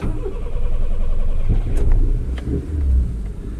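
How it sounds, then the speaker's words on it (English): A 1992 Honda Civic's carbureted D13 engine cranks and catches, then settles into a rough, loud idle close by, with a few clanks as it fires up. "That D13 carbureted engine firing up."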